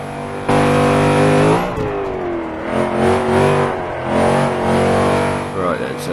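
Forza 5 race car engine bursts in loudly and revs hard through repeated rises and drops in pitch, close and continuous, with a voice speaking over parts of it.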